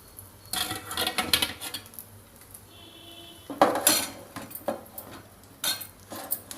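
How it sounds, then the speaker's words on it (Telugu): Cooked dal being taken out of a pot while making fenugreek dal, with scattered clinks and scrapes of a metal spoon against the cookware, close and fairly quiet, without talk. "ఇప్పుడు మనము ఉడికిపోయిన పప్పు తీసి వేద్దాం"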